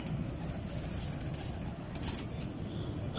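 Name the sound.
pigeons cooing and flapping wings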